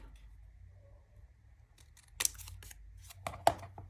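Scissors cutting folded paper for a junk journal: a quiet pause, then a few crisp close snips and a sharp clack near the end.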